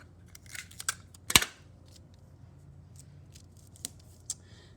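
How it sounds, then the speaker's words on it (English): Scissors snip through a paper skirt pattern to cut the dart legs, making a few quiet, separate crisp cuts and rustles with one sharper snap, close up with no talking. "I think the easiest way is to cut each dart leg and then just put it together and tape it closed."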